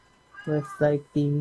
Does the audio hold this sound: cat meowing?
yes